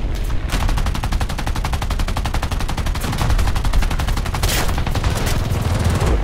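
Rapid machine gun fire from a CR.32 quater biplane in War Thunder chatters continuously while attacking an enemy plane, dense loud bursts with brief intensifications, no talk.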